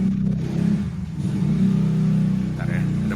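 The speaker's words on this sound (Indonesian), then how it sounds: "Bentar ya, ada motor." Motorcycle engine drones steadily nearby as it passes, a mid-pitched hum with a slight swell, heard under ongoing conversation.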